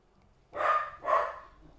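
Two quick, close, loud dog barks sound back to back over a faint low background hum.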